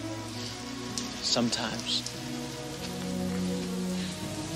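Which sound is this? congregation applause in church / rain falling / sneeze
rain falling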